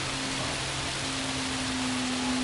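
Heavy rain falls during a Gran Turismo 7 race, a dense, even hiss of downpour holding steady throughout with a faint low engine tone humming beneath.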